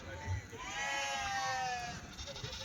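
A sheep gives a long, wavering bleat up close at a weekly sheep and goat market, with faint voices and a low rumble in the background.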